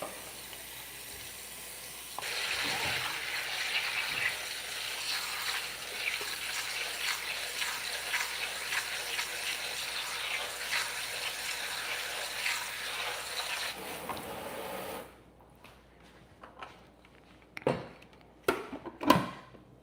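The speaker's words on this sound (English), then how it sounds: "I'm gonna add some water to this." Water from a tap streams steadily into a pot for lentil soup, a continuous hiss lasting about thirteen seconds before it stops, followed by a few sharp clinks and knocks of kitchen utensils.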